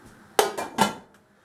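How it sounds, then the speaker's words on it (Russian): A saucepan lid being closed while sugar is inverted for home distilling: a few sharp metallic clanks and clinks close by in quick succession, with no talking. "Далее мы закрываем снова кастрюлю"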